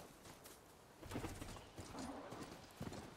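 A robotic mount in Horizon Forbidden West trots with rhythmic, clip-clopping hoofbeats, faint and fairly quiet, in quick uneven steps throughout.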